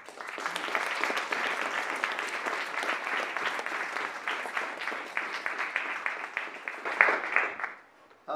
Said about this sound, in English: So could we have a very warm round of applause for Mr.